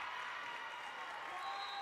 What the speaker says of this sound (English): you've got different fans looking and cheering on different teams on different courts